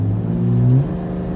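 A Ford Falcon's engine revs and pulls with a rising, droning whine that swells, then settles back to a steady mid-pitched hum, close and fairly loud, with no talking.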